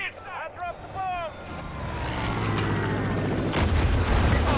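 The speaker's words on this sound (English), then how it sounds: "I'm gonna drop a bomb on these guys" A bomb dropped from a plane in Far Cry 5 bursts into a long, heavy rumbling explosion with a low roar under engine noise, following a few brief voice fragments and radio chatter at the start.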